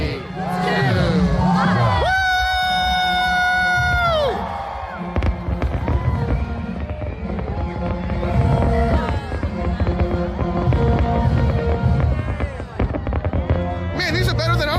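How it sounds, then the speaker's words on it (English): Fireworks pop and crackle at a midnight New Year countdown while a crowd cheers and whoops loudly, with rising whistles and bursts layered over continuous crowd noise and babble. "Man, these are better than our fireworks, Megan."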